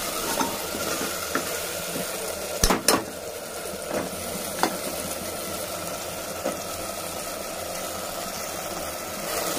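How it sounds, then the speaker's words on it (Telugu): Green peas and cauliflower are stirred in a pan over a quiet background hiss of cooking, with soft intermittent clinks and scrapes of a spoon against the pan, a couple of them sharper and louder, and no one talking. "ఇప్పుడు పచ్చి బఠానీ వేస్తాము కలుపుకుంటున్నాము"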